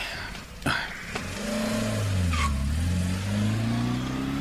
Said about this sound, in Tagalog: Pagandarak matla ti kotse.